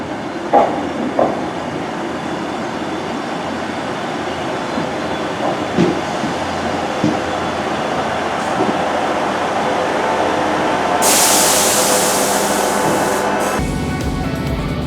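A Northern passenger train on the Calder Valley line in a train simulator game runs steadily with a low rumble and a few wheel clunks. A bright hiss swells near the end before cutting to a quieter cab tone.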